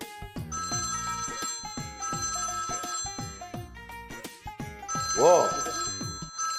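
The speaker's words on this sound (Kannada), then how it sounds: "ಫೋನ್ ಮಾಡ್ತಾವಳೆ" A ringtone chimes in a Kannada TV serial scene as a caller phones, repeated bright melodic phrases playing for several seconds while a voice speaks over it.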